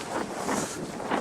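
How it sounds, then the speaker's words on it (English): Wind gusting hard on a cold, blustery winter day, a broad roaring rush that swells and eases in pulses, buffeting the microphone with no voices. "cue the wind."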